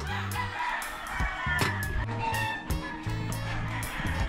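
Many free-range chickens cluck and squawk continuously on a farm, layered calls overlapping with a constant farmyard hubbub.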